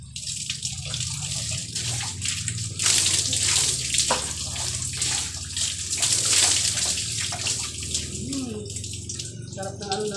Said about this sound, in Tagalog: Maligo tayo kasi mainit guys